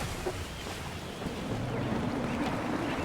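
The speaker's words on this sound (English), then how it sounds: "Gusty winds can be difficult to manage." Gusty wind rushes steadily while a ship sails in Assassin's Creed 3, a continuous broadband roar of moderate loudness that swells slightly in the second half, with no distinct breaks.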